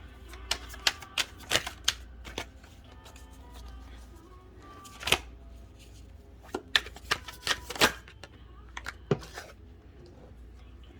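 Tarot cards are shuffled and drawn in a quiet room, giving a run of sharp, close card snaps and flicks at an uneven rhythm, with faint room tone between them.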